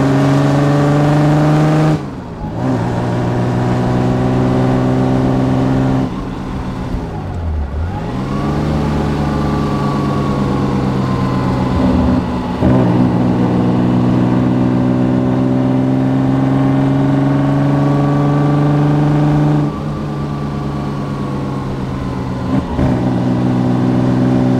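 A 1936 Wanderer W25K car drives with its engine running in a steady loud drone that rises and falls through gear changes, with no talk over it.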